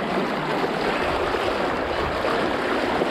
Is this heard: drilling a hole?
no